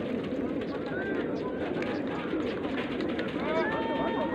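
Competition pigeons coo softly amid a busy outdoor crowd, their calls woven through steady background chatter and movement noise.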